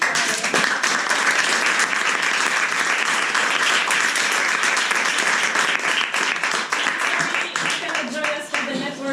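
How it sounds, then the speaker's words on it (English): Sustained applause from a large crowd at a service design meetup in Madrid, a dense wash of clapping that stays loud and steady throughout, with a few voices mixed in. "And a big round of applause again."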